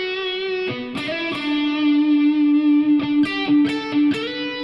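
Lead electric guitar played through a Two Notes CAB M cab simulator with some reverb mixed in: distorted single-note lines with sustained, singing tones and several quick picked notes, clear and upfront with no talking.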